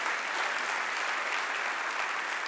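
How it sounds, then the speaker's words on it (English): A church congregation applauding in praise during a sermon, a dense sustained burst of many hands clapping together at steady volume throughout. "Somebody give a clap offering of praise to Jesus."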